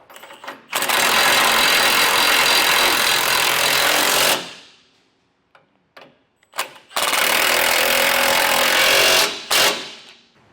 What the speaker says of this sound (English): I'll take a 19mm socket and tighten those two bolts down